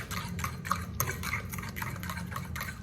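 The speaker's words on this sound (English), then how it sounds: "So I'm just gonna stir this up, the rest of the stuff." A utensil stirs cake batter with vanilla extract in a bowl, giving steady, close scraping and clinking strokes in a regular rhythm, fairly quiet and heard alone.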